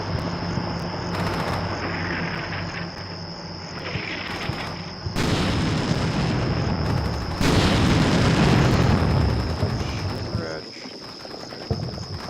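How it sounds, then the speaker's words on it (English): An anti-personnel artillery barrage in Combat Mission: Shock Force 2 lands as a run of heavy booming impacts that swell louder midway, set against a steady high electronic whine and ambient battlefield noise. "Another anti-personnel barrage on the backside of this place."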